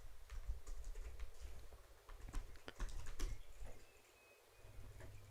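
Quick, uneven key presses on a computer keyboard rattle along continuously in a quiet room, with a few louder clacks standing out and faint birdsong in the background.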